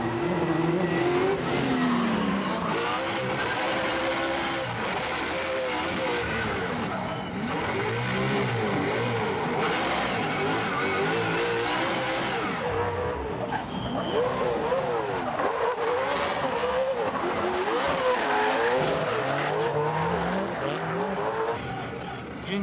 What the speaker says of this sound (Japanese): マシンの挙動を確かめ、いよいよドリフトに持ち込む